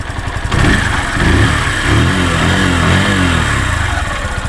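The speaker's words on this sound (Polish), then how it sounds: "silnik jest już wyraźnie ciepły, ładnie pracuje" A warmed-up Barton Classic 125 motorcycle engine idles steadily up close, a loud, even rumble with a slight lift in revs partway through and no voices.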